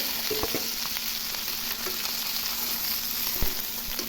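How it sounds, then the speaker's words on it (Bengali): Fish frying in hot oil in an outdoor pan gives a continuous, even sizzle throughout, with faint crackles and a few soft utensil clicks over the steady hiss. "মাছগুলো ভালো করে ভেজে নেব।"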